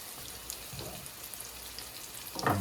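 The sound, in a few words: French toast frying in a pan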